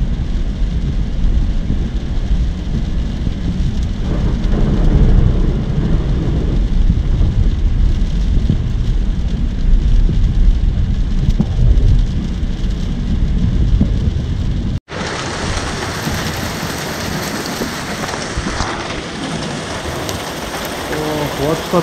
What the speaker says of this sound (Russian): просто все стеной льется, идет град и крупный дождь.